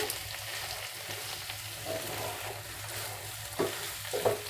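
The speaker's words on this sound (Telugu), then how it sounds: "చూడండి చికెన్ బాగా ఫ్రై అయిపోయింది" Chicken frying in ghee in a pan for a chicken ghee roast, a continuous close sizzle with occasional stirring scrapes and a few louder pops near the end.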